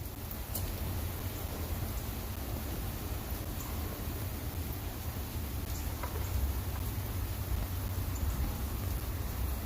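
Steady rain hisses evenly throughout, with occasional faint ticks of drops striking a surface, no voices present.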